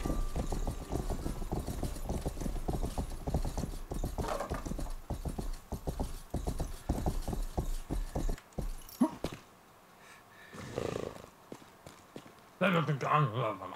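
Police horses in the medieval Rustler video game clatter along in a rapid, continuous clip-clop of hooves for most of the stretch, then fade to quiet, with talk and other game sounds mixed in.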